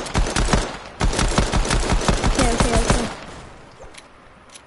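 Rapid bursts of SMG gunfire from a video game crackle loudly in a fast, even rhythm for about three seconds, then trail off into quieter scattered shots while a voice briefly speaks.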